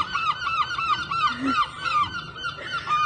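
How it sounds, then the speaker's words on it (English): Repeated harsh, laughing seagull calls sound close by in a quick series at Whitby, with low background noise underneath. "the seagull just laughs at him"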